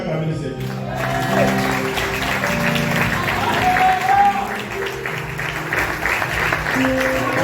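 A church congregation cheering and applauding in praise of the Lord, sustained clapping and crowd noise with voices and a speaker audible over it throughout.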